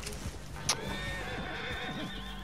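Horses in Red Dead Online give a sharp, brief neigh over a steady bed of clopping hooves and other movement, close and moderately loud.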